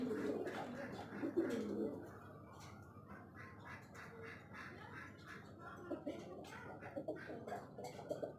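Soft, low cooing of pigeons repeats close by, fairly quiet, with some faint background murmur.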